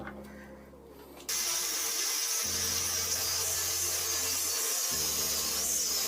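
A lathe cutting into a steel piece with a steady, loud grinding whine and rasp, preceded by a quieter mechanical hum before the cut starts, close up.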